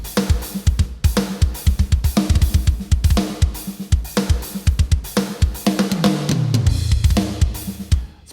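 A heavily processed metal drum kit plays a fast, heavy pattern with rapid kick drums, snare hits and crashing cymbals, loud and driving throughout.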